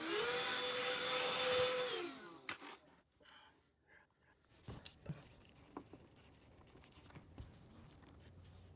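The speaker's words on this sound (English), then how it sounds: "Now, what I'm gonna do is vacuum the floor." A vacuum cleaner runs loud and steady with a high whine for about two seconds on a hardwood floor, then switches off and winds down. Quiet taps and small knocks follow.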